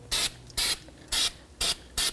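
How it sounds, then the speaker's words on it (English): High-temperature copper spray is applied to a wheel hub of a 2009-2014 Nissan Maxima in five short, even hissing bursts with brief gaps between them, close and fairly loud. "I like to take like a high temp copper spray, and I'm just going to coat it"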